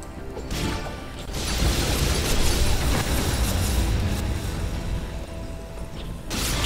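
A loud, dense run of blasts and crashing debris fills the side-scrolling action game Dust: An Elysian Tail, explosions piling into a continuous roar that swells and then eases off.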